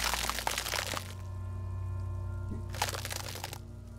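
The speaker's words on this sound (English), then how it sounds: "Until a pool of vomit lies under your feet" In the video game Disco Elysium, vomit splatters in two wet, splashy bursts, one at the start and another shortly after, separated by a low, steady ambient drone.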